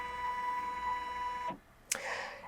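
A Janome embroidery machine shifts into its ready-to-sew position, a steady motor whir that stops around halfway, then a sharp mechanical clack and a brief follow-on whir, close and fairly quiet with no talking.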